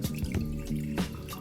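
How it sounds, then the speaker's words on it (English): Water poured from a tap into the lower reservoir of a moka pot while making espresso, a close, steady trickling and splashing stream that runs unbroken to the end, with no voices over it. "fill it with water."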